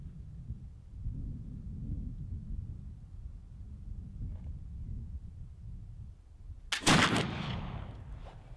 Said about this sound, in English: let's try a shot at some steel